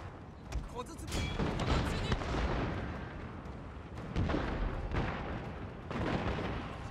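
Ship cannons fire during a naval battle in the video game Total War: Shogun 2, making a continuous rumbling barrage of overlapping booms and crackling blasts at steady loudness throughout.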